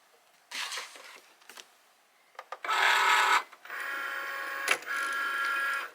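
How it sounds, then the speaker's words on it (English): Cricut machine with a deep cut blade cutting premium outdoor vinyl for packaging stickers at home: a mechanical whirring and buzzing in several bursts of carriage movement, with short pauses and clicks between passes, close and fairly quiet, no talking. "I'm going to just pop this into the machine and cut it out now"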